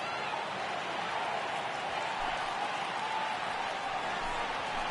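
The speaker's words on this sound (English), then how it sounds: "I can hear the crowd murmuring now" In a baseball video game, an Astros at A's matchup, a constant low murmur of stadium crowd noise forms an even wash throughout, with no clear voices.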